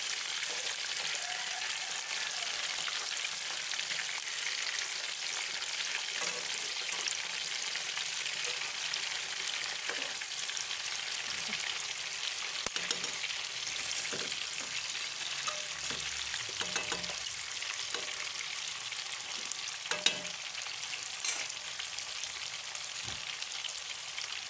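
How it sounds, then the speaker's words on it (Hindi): Fish pieces frying in hot oil in a pan, a dense continuous sizzle with faint crackles, occasional clinks of tongs turning the fish, close and steady throughout, with no voice. "ये मैं बहुत ज़्यादा फ्राई नहीं करनी है इसको, बिल्कुल थोड़ा सा फ्राई कर रही हूँ।"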